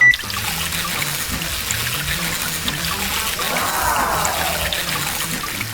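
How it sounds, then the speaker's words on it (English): Steady trickle of water from a toy water pump pouring and splashing into a container, fairly close and continuous, with a faint voice in the background. "Before using, we need to test the pump."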